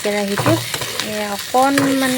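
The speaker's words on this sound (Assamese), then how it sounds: "কেৰাহীটোত মই শুকান মাছ ভাজি আছোঁ।" Dried fish frying in a wok, with steady sizzling and stirring under a voice that talks in short bursts throughout.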